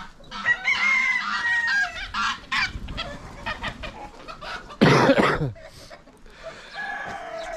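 A broody hen and other chickens cluck in loud, irregular bursts, with one sharp squawk standing out near the middle and softer clucks scattered between.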